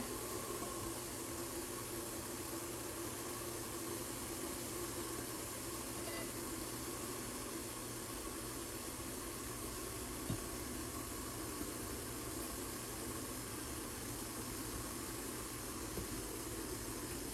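Idli steamer pot on a stove hissing with steady steam while rice dumplings (akki kadabu) cook, an even, continuous soft rush with no voices.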